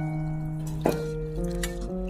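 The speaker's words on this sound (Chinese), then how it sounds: "然后再用手抓一抓，把它控干水分捞出来，再加入清水多洗几遍。" Broccoli florets are squeezed and swished by hand in a bowl of water, making brief wet squishes and drips over a constant low background hum, close and fairly quiet.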